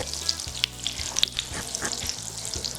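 Oil sizzles and crackles in a frying pan while syrniki are cooked, with a continuous close hiss broken by scattered pops and spits. No speech is heard.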